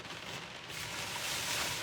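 Steady rain hisses close by in a soft, even wash, swelling slightly, with no voices.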